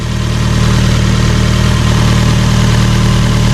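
Fiat 124 engine with a tuned control module idling steadily and loudly at close range, a constant low droning hum with no talk over it.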